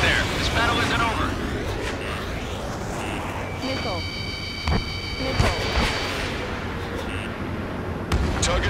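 Explosions from a missile hitting its target in the Ace Combat 7 flight combat game, a series of rumbling blasts and sharp impacts mixed with jet and battle noise, with radio voices talking over it.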